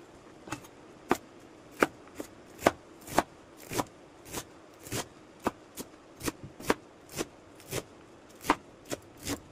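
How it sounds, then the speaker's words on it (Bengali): A knife finely chops leafy greens on a board for a Bengali data saag dish, with about twenty sharp, evenly spaced thuds ringing close and clear with no voices. "চলো তাহলে শাকটাকে কুচি কুচি করে কেটে নিই।"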